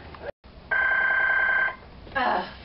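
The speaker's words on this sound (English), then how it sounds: "Answer the phone! It's ringing!" A telephone rings in a steady electronic trill lasting about a second, clear and fairly loud, between short bursts of other sound before and after.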